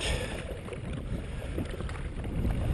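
A Sea Eagle FastTrack 385 inflatable kayak is paddled across open water, giving a continuous swishing wash of paddle and hull noise mixed with wind buffeting the microphone.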